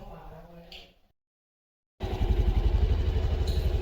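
After a voice and a short silence, an Activa scooter engine starts up close by with a steady, low throbbing hum.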